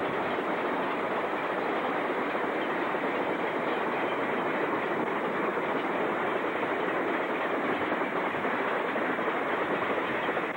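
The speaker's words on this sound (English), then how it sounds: "train number 308 passes by with engines 1808 and 1807" Ontario Northland train 308, led by engines 1808 and 1807, rolls past in winter near Monteith, Ontario, a loud steady roar of wheels and cars with clickety-clack rhythm continuing throughout.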